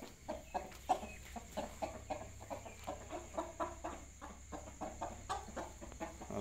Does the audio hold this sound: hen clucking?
yes